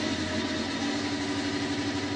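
A 6-cylinder Formula 1 turbo engine runs roughly at about 4,000 rpm with a faltering misfire, giving a continuous rough drone with uneven pulsing throughout.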